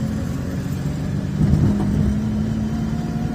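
A car rolls forward at low speed during a driving lesson, its engine humming steadily with a slight swell mid-way, no voices present.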